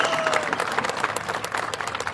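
Audience applause at the opening ceremony of a district council employees' divisional sports meet in Akola, a dense, steady wash of many hands clapping together, held at an even loudness from start to finish.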